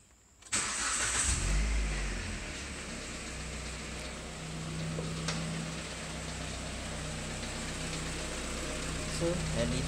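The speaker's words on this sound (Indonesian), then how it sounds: "So bila aku start engine," A Proton Exora's engine cranks and starts, then settles into a steady close idle hum that carries on under occasional speech.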